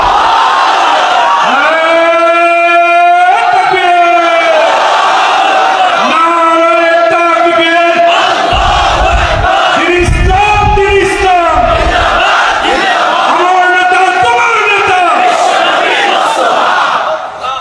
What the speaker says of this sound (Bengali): মুমিনের ইমান দীপ্ত স্লোগান হবে আল্লাহু আকবার।